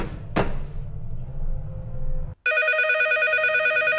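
A single old telephone rings in a blood-filled room in the horror game DOOMED, its bright electronic trill starting suddenly and continuing loud after a low rumble and a sharp knock.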